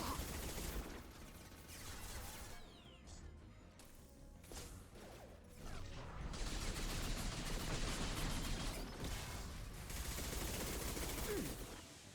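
Sustained gunfire from a firefight in the video game Mass Effect 2: dense, loud volleys of shots and impacts run without pause beneath a layered game soundscape.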